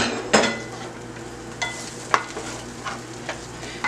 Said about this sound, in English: We're just going to saute it a little bit, get some of the flavors mingling together.